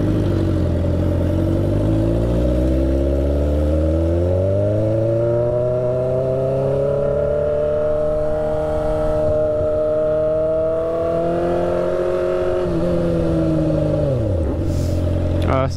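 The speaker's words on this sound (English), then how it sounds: "Triumph Street Triple R. Thing sounds and looks amazing." A Triumph Street Triple R motorcycle engine heard while riding on a rough road, holding a steady loud drone that slowly rises in pitch, then drops as the throttle closes near the end.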